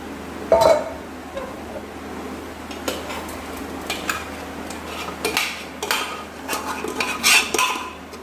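Drumstick leaf porridge is poured into a dish, giving scattered clinks and scrapes of cookware and utensils, soft and intermittent over a quiet kitchen background with no talking.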